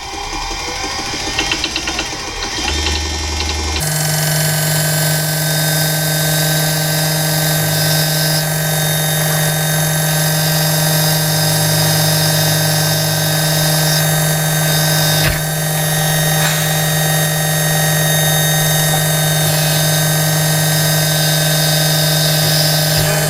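A blunt drill bit grinding into brass parts of a striking and chiming clock: a steady, loud mechanical whine with a low motor hum that runs nonstop after a brief start, with no talking.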